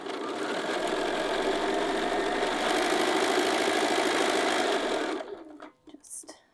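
A sewing machine runs steadily stitching fabric for a field bag pocket, a fast even whirring hum for several seconds that stops abruptly, followed by a few faint handling clicks.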